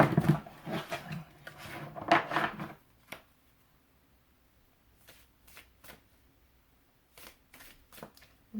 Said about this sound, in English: I don't think this one's going to shuffle that well either.